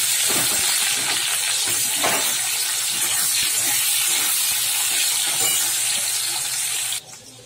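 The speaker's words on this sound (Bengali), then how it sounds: "আলুটা দিয়ে দিচ্ছি তেলের মধ্যে" Diced, washed potatoes fry in hot oil with a steady, even sizzling hiss that carries on for several seconds before cutting out abruptly near the end.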